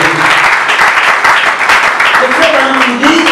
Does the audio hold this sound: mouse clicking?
no